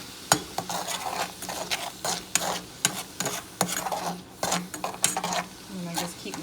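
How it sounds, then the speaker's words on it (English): Brussels sprouts in a honey glaze are stirred in a pan, with repeated close scraping and clinking of a utensil against the pan over a soft sizzle and brief talking. "And I just keep mixing it up."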